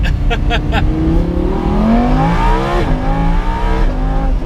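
A Lamborghini Huracan drives along roads in the Italian hills with a loud, close exhaust note. The engine pitch climbs steadily through a gear, drops briefly at a shift, then pulls up again, and no one talks over it.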